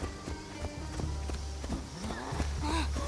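Horse hooves clip-clop at a walking pace in Assassin's Creed Shadows, a steady rhythmic series of close knocks under busy game ambience and music, with a brief rising call near the end.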